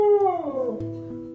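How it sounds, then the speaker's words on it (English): A husky lets out a single close, loud howl that slides steadily downward in pitch and trails off after about a second. "If you have had a husky, you're very conversant with their continuous howls and yapping."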